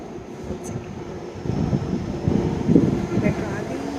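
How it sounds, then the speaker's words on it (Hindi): A Delhi metro train arrives at a station on a rainy day, its low rumble building and swelling toward the end under wind buffeting and background voices. "मेट्रो आ गई"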